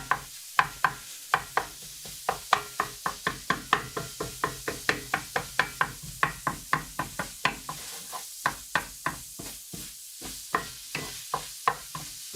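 A utensil chops food in a frying pan while gravy is made, giving steady, evenly spaced knocking strikes, about two or three per second, close and distinct, with short pauses and no talking.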